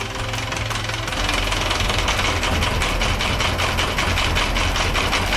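A catamaran's engine runs steadily, loud and close, with a rhythmic mechanical knocking that rises slightly as it is put into gear about a second in, continuing without any talk.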